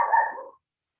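A single dog bark rings out close and fairly loud, then fades over about half a second into silence.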